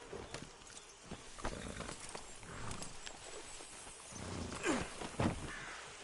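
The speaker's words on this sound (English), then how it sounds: "Load Anders onto the back of your horse there" Horse hooves in the video game Red Dead clop on the ground at a steady walking pace, fairly close, with soft rustling around them and no talking.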